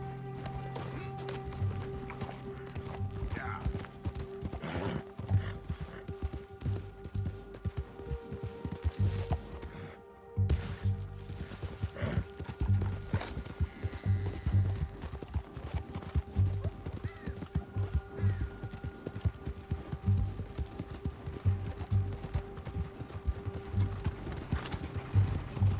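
Horse hooves galloping in Red Dead Redemption 2, a steady rapid clip-clop of hoofbeats that runs continuously at moderate level, with a brief dip midway and no talk over it.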